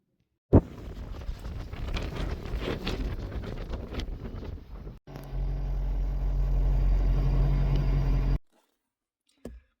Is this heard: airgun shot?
no